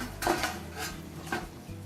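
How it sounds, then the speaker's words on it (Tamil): Freshly fried raw banana bajji is set down on a plate, giving a few close, light clinks and taps of crisp fritters against the dish, spaced irregularly, with no voices. "இப்போ இதை ஒரு பிளேட்டில் போட்டுக்கலாம்."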